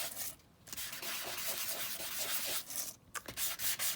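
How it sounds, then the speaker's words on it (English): A sanding block rubs back and forth over flat paper ephemera, giving a close, dry, scratchy hiss in quick repeated strokes with brief pauses between passes. "go over the whole thing a little bit with my sanding block"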